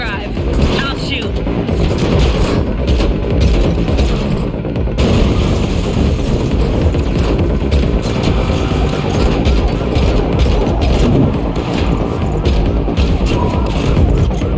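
Gunfire during a car chase in The Matrix Awakens demo video game, repeated shots over a constant loud roar of engine and road noise, with voices speaking over the action.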